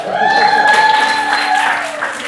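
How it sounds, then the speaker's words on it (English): Audience cheering and applause at a live variety show swells into a sustained wash of clapping and whoops, fairly close and loud, with a sung or held vocal tone running over it. "And some cheer, everybody."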